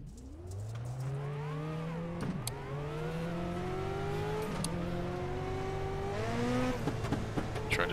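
Dirt race car engine idling and blipping on the grid at Lanier National Speedway in iRacing, a loud close burble with repeated rising revs and other cars rumbling nearby.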